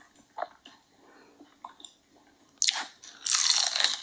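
Crunchy chicken nuggets bitten and chewed up close, a few soft crunches early, then sharp loud bites and a dense burst of crunching toward the end, with no talking.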